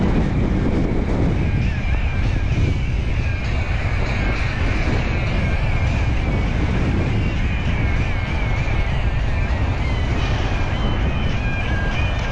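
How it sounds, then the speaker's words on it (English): Strong wind buffets the microphone on a cold bike ride along the LA River Trail, a loud continuous low rumbling roar with gusty fluctuations throughout. "I'm afraid to curse the wind because I know it can be worse"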